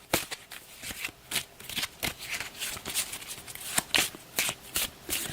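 Cornerman cards from the Title Bout II boxing board game are shuffled by hand, giving a quick series of crisp, close riffling bursts in an irregular rhythm.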